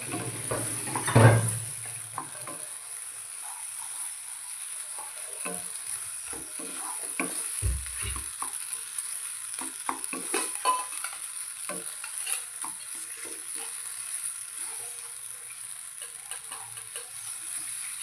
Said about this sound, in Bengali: এবার হালকা হালকা করে নাড়তে হবে, নাহলে তো লেগে যাবে।